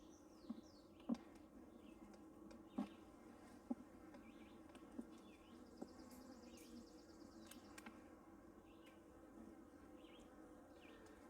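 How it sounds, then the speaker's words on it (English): Honey bees buzz softly inside a small two-frame nucleus hive, a quiet, steady hum with individual bees flying close past now and then, plus a few faint clicks and knocks. "A lot of bees in here."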